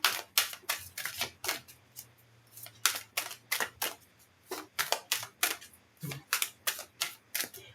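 Tarot cards riffling and snapping as a deck is shuffled, in quick bursts of crisp papery flutters repeating in a steady rhythm, close and clear with no talking.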